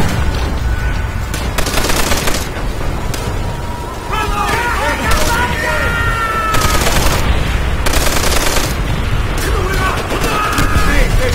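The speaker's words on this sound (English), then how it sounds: "This MG fire is really taking out everything." Sustained MG machine gun fire in the World War II shooter Call of Duty: World at War, loud rapid bursts of gunfire with booms and battle noise running throughout the clip.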